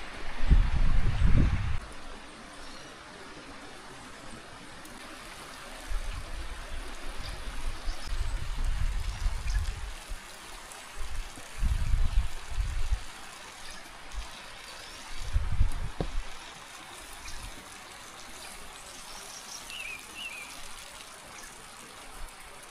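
Irrigation water trickling and gurgling steadily, with low splashy bursts coming and going at intervals; no voices.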